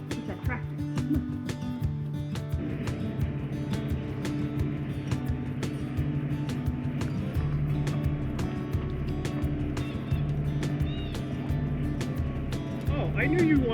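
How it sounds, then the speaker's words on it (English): A tractor engine runs steadily on a farm with a low, droning rumble that holds throughout, while people talk and call out over it. "it's just the tractor"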